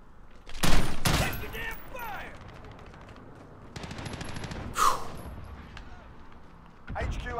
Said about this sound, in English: I'll shoot him in the crotch.